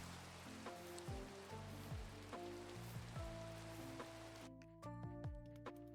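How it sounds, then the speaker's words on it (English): Loud weather in the Minecraft video game brings a steady hiss of rain pattering on surfaces, under faint tonal game music notes, with a brief dip partway through before the rain resumes. "man, is this rain loud."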